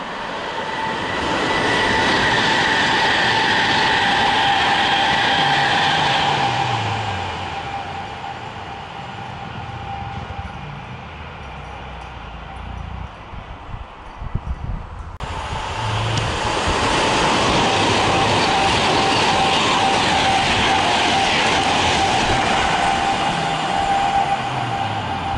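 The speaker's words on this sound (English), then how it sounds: "A service from London to Liverpool is about to pass platform 6. And then a service from Liverpool to London will pass platform 4." Passenger trains rush through Milton Keynes Central station platforms on London–Liverpool services, a loud, close roar with rumbling wheels and a high metallic hum that eases into a lull before a second train bursts past just as loudly.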